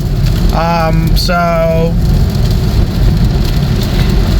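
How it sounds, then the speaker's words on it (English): Heavy rain pours on an electric car driving along the I-85 highway toward Charlotte, a dense, loud, steady wash of water and road noise filling the cabin, with one short spoken word near the start. "it is still raining, pouring down."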